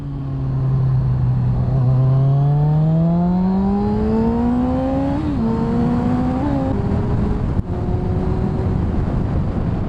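A sports bike engine drones steadily during a ride, its pitch climbing slowly and shifting with a couple of gear changes, loud and close with constant wind and road noise.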